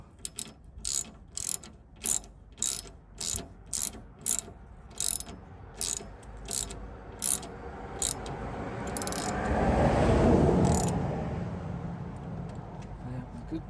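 A ratchet tightening catch can bolts on a Valiant Charger, with about a dozen crisp bursts of rapid clicking in a regular rhythm, close and fairly loud, then a louder rushing mechanical swell near the end.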